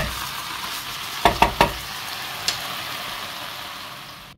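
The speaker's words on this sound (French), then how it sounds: "On va rajouter l'ail. Voilà, on poursuit la cuisson." Garlic sizzles softly in a pan with leeks and chard, a steady close fry broken by a few quick knocks of a spoon stirring against the pan.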